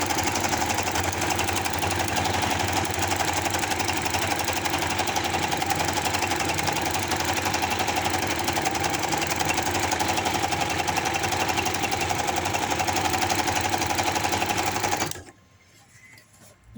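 A sewing machine stitches a straight seam in pajama fabric, running as a steady, fast, close mechanical whir for about fifteen seconds before stopping abruptly, leaving quiet room tone.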